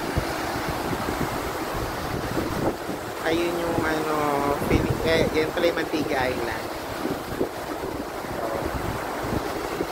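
Steady seaside wind in Camiguin, Philippines buffets the microphone with a rushing roar over open water while a person talks over it.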